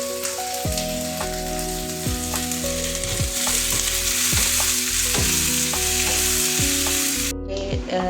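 Pieces of fried chicken sizzle loudly in a pan as sliced onions are added, a dense, steady frying hiss that runs unbroken for several seconds before cutting off near the end.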